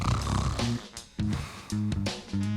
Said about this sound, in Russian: Храпеть.